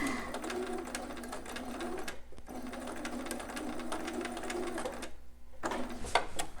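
A sewing machine stitches a newborn romper: a steady, close whir of rapid needle strokes runs most of the time, stopping briefly twice, with one short pause before the final burst.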